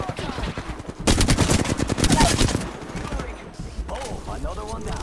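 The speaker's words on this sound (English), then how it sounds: "Shots fired at me." Gunfire in Apex Legends, a loud rapid burst of automatic shots hammering for over a second, followed by scattered shots and game noise.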